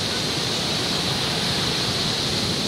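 Waves on Kuta Beach in Bali, a continuous broadband wash of surf with no distinct breaks, steady and fairly loud, with no voices.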